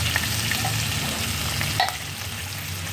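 Holiday corned beef frying in a pan makes a constant sizzle and crackle while it is stirred, with a few scraping clicks and no talk.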